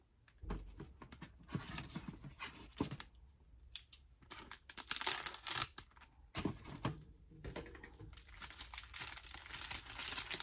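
Paper crinkles and rustles close up as a sunflower bag topper is worked off a paper bag, in irregular soft bursts of crumpling and light tearing-like scratches.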